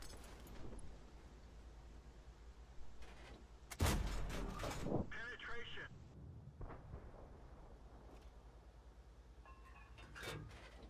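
Tank cannon fire in World of Tanks from an M56 Scorpion: one loud booming shot with a rumbling tail, followed by mechanical clatter, a few fainter distant bangs and low background noise.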